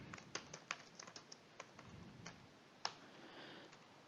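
Typing on a computer keyboard into a spreadsheet cell, a quick irregular run of light clicking keystrokes, close but quiet, with one sharper tap near the end and no voices.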